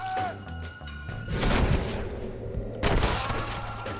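Gunfire in the Red Dead Redemption Undead Nightmare video game comes as a couple of loud, booming shot bursts over a rumbling game background.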